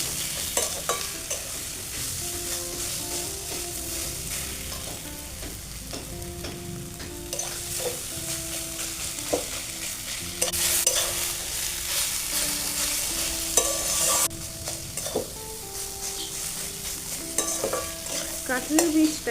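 Mashed jackfruit seeds with onion, garlic, salt and turmeric frying in a pan, with continuous scraping and stirring over a steady sizzle that grows louder partway through.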